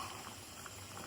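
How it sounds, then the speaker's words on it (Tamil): Mushroom gravy bubbling at a steady boil in an uncovered pot, a soft continuous seething hiss with faint irregular pops, close and alone with no talk. "இப்போ நல்லா கொதிச்சிருச்சு"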